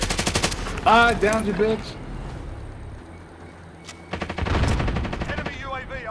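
Rapid machine-gun bursts from an LMG in Call of Duty: Modern Warfare, loud and clustered at the start and again near the end, with someone shouting over them and tense talk between.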